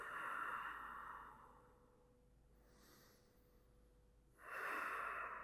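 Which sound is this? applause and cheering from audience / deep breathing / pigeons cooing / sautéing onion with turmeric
deep breathing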